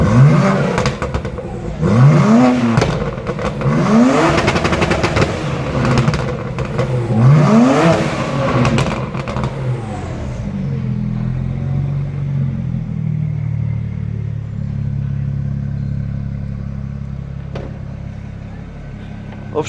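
BMW 335i E91 with an N54B30 engine idling under the hood, first with loud fluctuating engine and mechanical clatter, then settling into a steady idle with a light injector tick.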